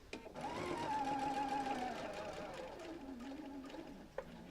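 A sewing machine stitches a seam on a double wedding ring quilt, running in one steady, close humming burst for about four seconds before stopping with a small clack.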